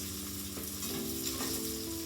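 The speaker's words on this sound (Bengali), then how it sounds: "এখানে মাছগুলো ভেজে নিচ্ছি" Fish pieces frying in hot oil for a Bengali fish curry make a steady, close sizzle that holds evenly throughout, with a faint low hum beneath it.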